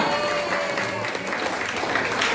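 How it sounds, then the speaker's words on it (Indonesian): Steady, full applause from the audience at a primary school quiz competition at MIN 2 Aceh Timur, continuous and fairly close, with no pauses throughout. "Berikan tepuk tangan yang meriah untuk kita semua."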